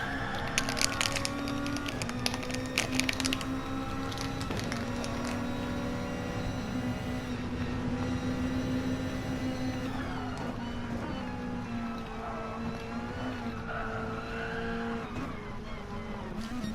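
Lexus race car engine in a racing video game endurance race, a steady sustained engine drone at moderate level with shifting pitch as it accelerates, plus other cars faintly around it.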